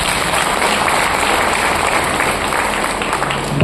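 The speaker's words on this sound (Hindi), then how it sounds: "ओमी के लिए एक जोरदार ताली" Hearty audience applause for Omi at a Hindi-speaking gathering, dense steady clapping filling the whole stretch at close range with no voices over it.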